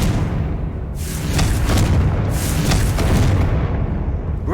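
Confringo fire spell detonating in Hogwarts Legacy: a deep booming blast followed by a second swell of rumbling explosion, loud and sustained with crackling debris.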